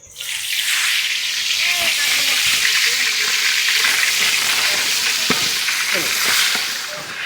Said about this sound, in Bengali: নুন হলুদ মাখানো মাছের মাথাগুলো এবার আমি ভেজে নেব।